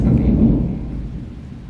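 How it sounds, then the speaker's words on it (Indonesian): Thunder rolls during rain: a loud, broad low rumble that starts strong and slowly fades over a couple of seconds, with no voices. "jadi petir ya, karena hujan ini"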